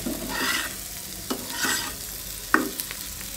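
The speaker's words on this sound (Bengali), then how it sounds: "কাঁকরোলটা কিন্তু ভাজা শেষ," Kakrol (gourd) fries in a pan with a steady close sizzle, broken by several spatula stirs and scrapes and a couple of sharper clicks against the pan.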